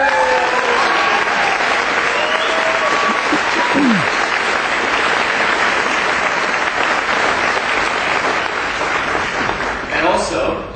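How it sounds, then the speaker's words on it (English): Sustained applause from the audience at a graduation ceremony and toast, steady and loud throughout with a few cheers and whistles rising over it, tapering slightly near the end. "so they deserve a big round of applause"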